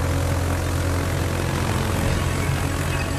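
Carrier aircraft in the naval battle game World of Warships fly overhead with a steady, loud propeller engine drone that holds an even pitch throughout.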